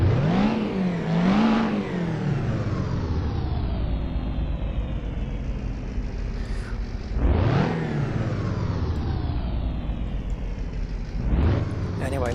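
A Mini's engine in Assetto Corsa is heard from the front, with sharp rev surges that sweep up and then slowly drop away. Three such sweeps come over a steady hum.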